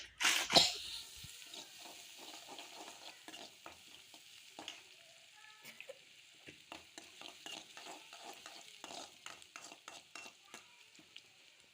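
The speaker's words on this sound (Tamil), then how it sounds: "சூடானதும் கொஞ்சமாக பெரிய வெங்காயம் நறுக்கி வச்சுருந்ததை சேர்த்து நல்லா வதக்கி விட்டுறலாம்" Chopped big onions hiss and sizzle in hot oil in a pan, with a loud clatter of a spoon at the start, then steady frying crackle and repeated stirring scrapes throughout.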